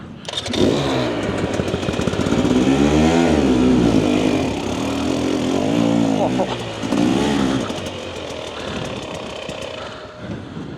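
A Husqvarna TE300 dirt bike engine lugs and revs at low speed on a rough trail with roots, loud and close with uneven surges, while riders talk over it.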